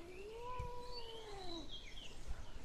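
A mother cat gives a single drawn-out, falling meow lasting over a second, faint against a quiet room background.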